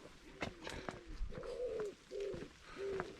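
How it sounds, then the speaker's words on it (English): A pigeon coos on a countryside walk in the Cotswolds between Bibury and Coln St Aldwins, giving three or four soft, hollow, moderately close calls, with faint chirps from other birds and light outdoor ambience. "Oh, pigeon."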